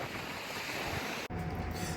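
Strong wind sweeps across a seaside beach, a loud continuous roar buffeting the microphone with surf mixed in, briefly cutting out before rushing back.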